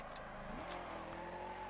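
A sedan's engine hums steadily in a summer racing game, the tone shifting as the car changes gear and accelerates, heard alone at a low level.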